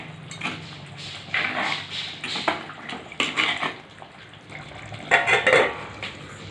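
A spoon stirs native chicken curry in a clay pot, giving irregular scraping and clattering knocks against the earthenware with wet, thick sloshing, close and moderately loud, with no talk.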